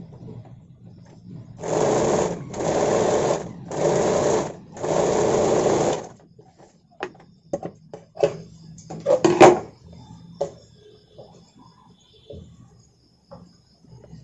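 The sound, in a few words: sewing machine stitching a blouse seam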